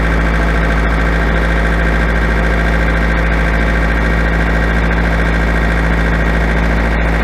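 A loud, steady tractor engine drones continuously with a deep rumbling hum and constant vibration, close by and unchanging throughout.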